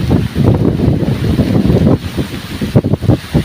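Strong wind buffets the microphone outdoors in loud, gusty rumbling bursts that rise and fall unevenly, close and dominant, with no talking.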